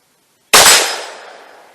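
A single sharp crack from a Ruger American Rimfire .22 WMR rifle fired at a 30-yard target, loud and close, its report fading into a short decaying ring afterward.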